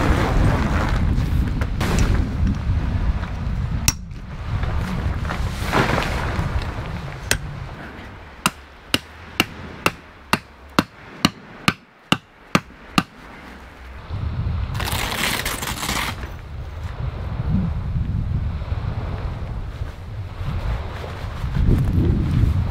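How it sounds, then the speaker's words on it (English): Strong wind gusts roar close against the microphone at an outdoor overland campsite, buffeting steadily, easing for a stretch while a series of sharp regular knocks sounds, then surging again. "This wind's picking up."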